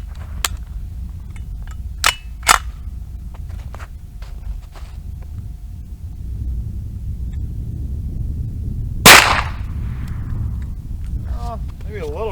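A 9mm Vector fired at bricks outdoors: a few sharp, scattered cracks over a low rumbling background, followed later by one louder, harsher report with a brief ringing tail.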